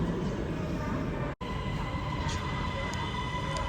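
A Bangkok MRT subway train rumbles and hums steadily from inside a carriage, a moderate continuous rolling drone with faint higher squeals and one brief dropout.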